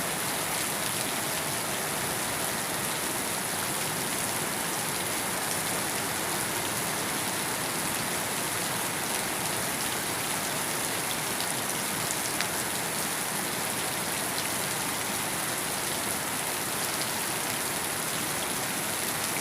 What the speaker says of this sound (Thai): ฝนตกประมาณนี้